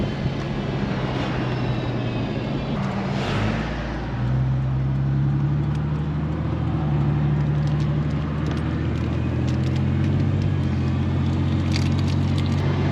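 A lifted, rare Dodge Dakota convertible that had been flooded drives along the road, giving a steady low engine drone and road rumble, with a brief dip and then a smooth rise in pitch as it gains speed.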